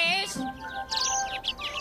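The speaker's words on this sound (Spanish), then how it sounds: "¿no te parecen adorables las aves?" Cartoon birds chirp and tweet in a bright flurry of quick high calls in an animated children's Bible show, close and lively, with a voice speaking briefly at the start.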